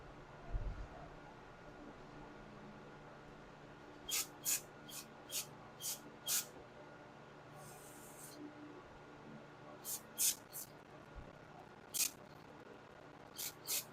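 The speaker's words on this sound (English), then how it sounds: "there's going to be spray coming out all these little tiny holes" Carburetor cleaner sprayed through the tiny holes of a Honda GX200 carburetor on a pressure washer, heard as a series of short, sharp hissing bursts in quick clusters over a faint background.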